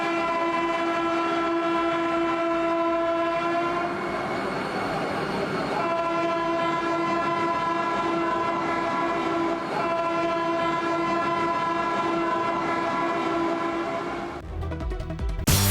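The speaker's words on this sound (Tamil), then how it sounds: "ஸ்ரீநகர் வரை 2 வந்தே பாரத் விரைவு ரயில்களின் சேவையையும் பிரதமர் மோடி கொடியசைத்து தொடங்கி வைத்தார்." A Vande Bharat express train on the Jammu–Katra to Srinagar route sounds its horn in a loud, sustained blast that holds for most of the run, over rolling rail rumble that swells near the end.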